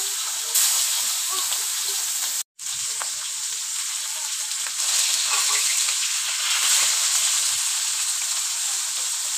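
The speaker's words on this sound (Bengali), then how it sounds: "এখন কড়াইতে তেল দিয়ে আমি মাছগুলা দিয়ে দিচ্ছিলাম।" Fish fry in hot oil in a wok with a loud, continuous sizzling hiss that breaks off briefly once and then resumes.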